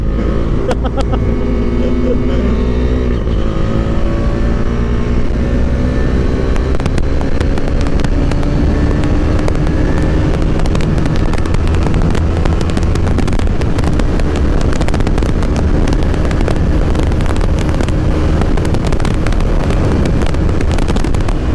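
A motorbike rides along a highway past fields, with a constant loud roar of engine and rushing wind that carries on without a break, along with scattered buffeting crackles.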